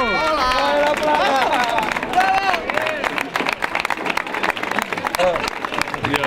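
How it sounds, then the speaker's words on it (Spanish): A street crowd at a carnival performance claps and cheers for a bass drum player, the applause loud and busy under singing voices and chatter that keep going throughout. "Un aplauso para él, por favor."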